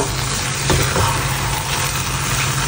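Cassava suman mixture stirred with butter in a pan over heat, a dense, continuous sizzling hiss with a low steady rumble underneath and faint scraping strokes, loud and close with no talking.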